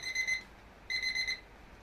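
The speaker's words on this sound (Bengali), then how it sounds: "এই 5টায় অ্যালার্ম বাজলো।" Two quick bursts of shrill alarm-clock beeping with a short gap between them, close and clear.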